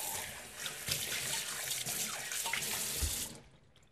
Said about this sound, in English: Rinse thoroughly with warm water